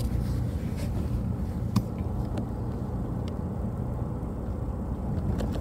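Steady low rumble of traffic on the East Capital Expressway carries on without a break beside a car wash, a dense, even roar with no voices over it.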